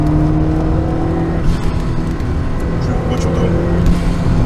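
A Fiat 500 Abarth accelerating hard, a loud steady engine drone from inside the car that climbs in pitch, with people talking over it.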